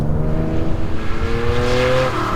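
A Theon Design ITA001 restomod Porsche 911 engine revs hard, its loud, rising flat-six note sweeping upward with layered harmonics before easing off, close and continuous with no voices.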